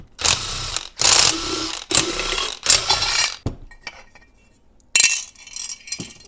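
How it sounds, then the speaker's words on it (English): Metallic clanking and scraping as a cover comes off the balance shaft assembly of a 2.4-litre SRT4 engine block, in several loud close bursts with quiet gaps between them. "So I'm going to pull this cover off."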